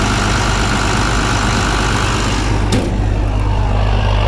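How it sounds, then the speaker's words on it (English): A Perkins diesel engine on a Massey Ferguson 760 combine idles steadily and loudly up close, a continuous low rumble with a brief click partway through. "We got our Perkins engine."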